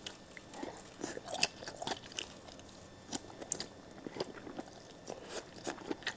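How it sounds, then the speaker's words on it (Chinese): A person chews a crunchy sea cucumber snack close to the mouth, a steady run of soft bites and crunches with no talk over it. "海参吃完了"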